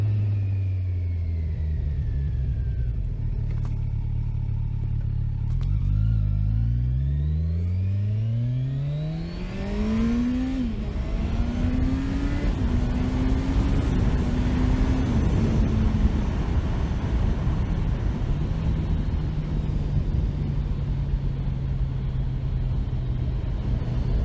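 Kawasaki Ninja 1000 ABS sport motorcycle engine revving hard through rising gear pulls in full power mode with traction control off, a loud close onboard roar climbing in pitch, dropping at shifts, then settling into steady cruising rumble with wind noise.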